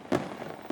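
Fourth of July fireworks give two short, sharp bursts, one near the start and a fainter one at the end, set against a quiet background, with no talking.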